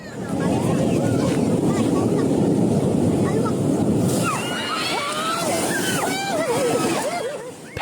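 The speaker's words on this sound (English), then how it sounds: "Powerful waves slammed into the shore, sending water inland and flooding the entire area within seconds." Powerful waves crash and surge onto a shore during a disaster, a loud continuous roar of churning water mixed with heavy wind buffeting the microphone, easing slightly midway before swelling again.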